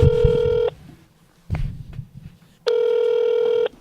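An outgoing phone call rings on a handset, giving two long, steady electronic ring tones separated by a quieter gap with faint background rustle and a soft knock.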